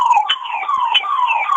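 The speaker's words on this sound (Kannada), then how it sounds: "ಆಂಬುಲೆನ್ಸ್" An ambulance siren wails loudly and steadily in a rising and falling two-tone pattern, close and continuous, with no voices over it.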